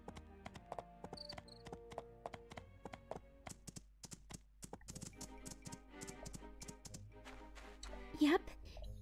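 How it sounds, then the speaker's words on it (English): In the video game My Time at Portia, horse hooves clip-clop in a quiet, irregular rhythm alongside game sounds and keyboard-like tapping. A horse briefly whinnies near the end. "Horse."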